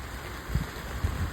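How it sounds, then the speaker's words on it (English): Steady rain falls in a backyard, a continuous broadband hiss with a few louder low thuds of drops, close and alone with no voices. "Now, all I can hear is rain."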